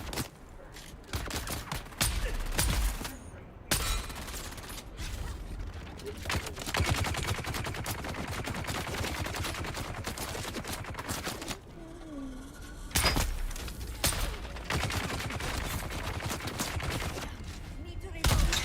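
Rapid bursts of gunfire from Dune Awakening crackle through the whole stretch, dense volleys broken by short lulls, with scattered game effects in between and a player's voice faintly under the shooting.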